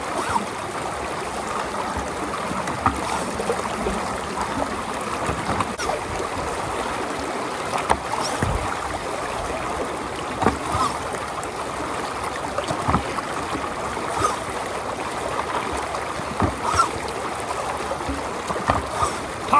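A power pump sucking up bedrock gravels in a stream while gold panning in the UK, a continuous churning watery rush and gurgle with scattered small knocks of stones, steady and close throughout.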